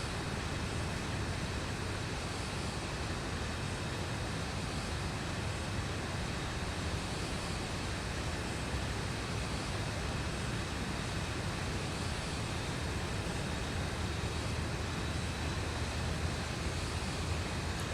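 Boeing 737 engines at full throttle in a Zibo mod flight simulator, heard as a steady, loud, broadband roar that holds unchanged for the whole stretch, with no voices.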